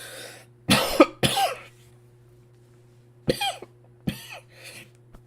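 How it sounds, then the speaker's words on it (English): A person coughs close by, with a pair of harsh coughs early on, then another burst of two or three coughs and a softer final one, separated by quiet gaps. "God, now I'm coughing."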